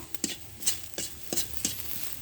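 Onion and garlic fry in a pan while a spatula scrapes through them in a quick, regular rhythm of close strokes over a low sizzle.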